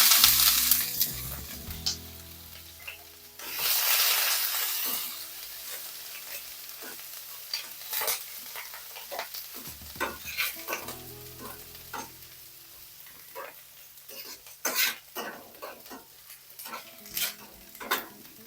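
Grated garlic and ginger hit hot oil in a pan, a sizzle that swells and fades, with scattered clinks and scrapes of a spoon against metal.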